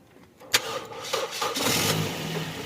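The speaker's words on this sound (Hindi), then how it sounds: "तो जो गाड़ी है ना अभी स्टार्ट होगी इंशाल्लाह" A Toyota Corolla Altis 1.8 Grande, after a relay bypass, cranks with a sharp click and then a few strained turns before the engine catches and settles into a steady close idle, with no talking.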